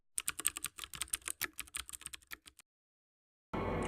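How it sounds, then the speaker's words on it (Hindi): Rapid keyboard typing sound effect added in the KineMaster video editor, a dense run of close key clicks lasting about two and a half seconds, then silence and a burst of steady noise at the end. "इस तरह से अपना ये आप टाइपिंग इफ़ेक्ट बना सकेंगे और ये आपको काइन मास्टर से ही हो जाता है।"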